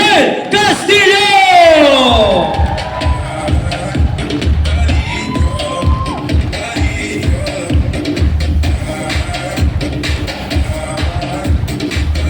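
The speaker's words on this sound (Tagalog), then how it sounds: "ating palakpakan at salubungin ng masigabong palakpakan na may kasamang hiyawan" An audience erupts into loud cheering, whooping and shouting for an award at a hall of fame ceremony, opening with a rising collective roar that settles into sustained, rhythmic crowd noise with clapping.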